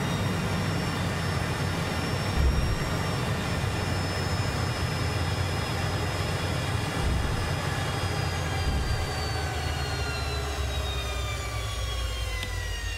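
Harrier II jump jet in a flight simulator, its engine roaring steadily after touchdown, with a constant broadband rush and a high whine that slowly falls in pitch, no voices.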